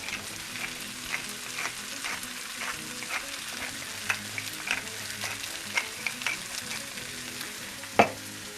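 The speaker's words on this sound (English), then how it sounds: "we're just going to stir everything together" Cooked beans with cumin and black pepper are stirred in a frying pan, giving a continuous sizzle with scraping strokes and a few louder clicks of the utensil, close and without speech.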